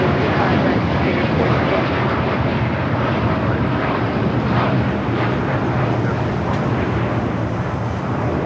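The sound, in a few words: Japan Airlines airliner at LAX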